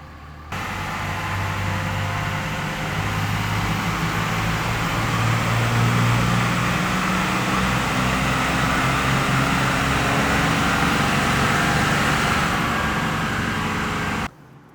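A 3rd-generation common-rail Cummins diesel on a dyno pull drones loud and steady, a broad roar with a low tonal hum that swells slightly midway, then cuts off abruptly near the end.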